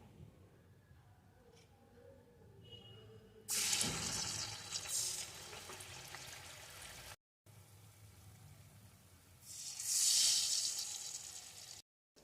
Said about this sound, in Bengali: এখন বাকিগুলোকেও এই একইভাবে ভেজে নেব